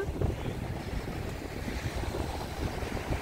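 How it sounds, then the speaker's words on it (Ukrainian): Wind gusts roughly across the microphone outdoors by the sea in Odesa, a steady rumbling rush with soft water sounds beneath, no voices. "вітер дує"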